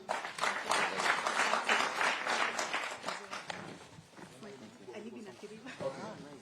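Dense crowd applause at a Kenya Kwanza forum with people living with disabilities, loud and sustained for about three seconds before fading under someone speaking to the audience.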